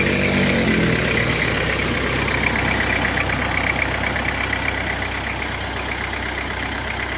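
A Toyota Kijang diesel engine idles after an engine rebuild, a loud, steady low rumble with a fine, even knocking clatter running throughout, close by and with no talk.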